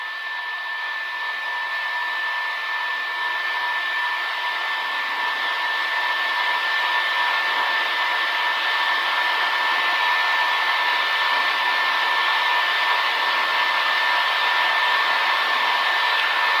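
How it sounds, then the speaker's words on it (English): Remos light aircraft engine at full RPM on the takeoff roll and liftoff, a steady, loud, unbroken buzzing drone from the cockpit that holds its pitch throughout. "Full RPMs have been achieved. Rotate speeds, we're rotating. And we have liftoff."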